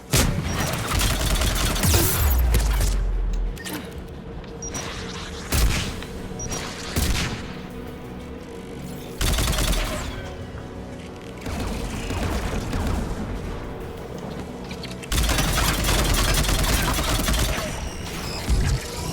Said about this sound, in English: That sounds like AA guns. There, the anti-aircraft guns.